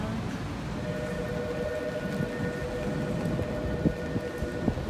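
Steady rain falls during a walk along the Meguro River in Japan, a dense continuous patter with occasional louder drops, fairly close and with no voices.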